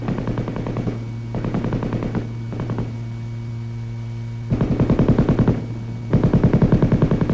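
M60 7.62 mm gas-operated, belt-fed machine gun firing several bursts of rapid automatic shots, loud and close, with a steady electrical hum running underneath.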